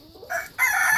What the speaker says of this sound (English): there's where the chickens are